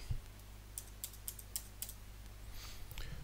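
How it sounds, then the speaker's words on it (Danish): Several separate key presses on a computer keyboard, with clear, crisp clicks at an uneven typing rhythm over a low steady hum, as a short word is entered. "Igen, jeg taster en enkelt gang afdækning ind."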